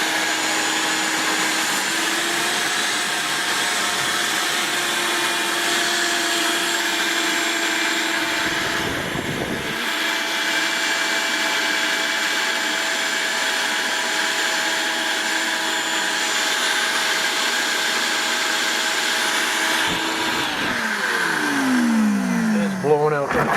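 Blower forcing air through a hose to clear in-ground pool lines, a loud steady mechanical whine with pitch shifts and brief gusts, with a person talking over it at times.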